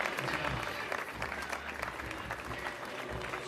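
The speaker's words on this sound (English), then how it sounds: "let's give him a few rounds of applause" A school audience at St Joseph Boys Kitale's Form Two academic day gives several rounds of applause, a dense, even roar of clapping from a large crowd that holds steady throughout.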